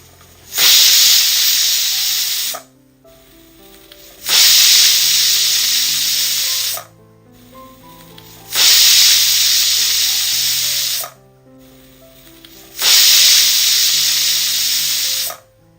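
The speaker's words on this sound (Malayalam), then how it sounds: "കുക്കർ മൂടി വെച്ച് നമുക്ക് മീഡിയം ഫ്ലെയിമിലിട്ടിട്ട് ഒരു 4 വിസിൽ കേൾക്കുന്നവരെ ഒന്ന് വെയിറ്റ് ചെയ്യാം" A pressure cooker cooking eggs on a medium flame releases four loud, sustained bursts of hissing steam with a shrill whistle, each lasting about two seconds, separated by short silences.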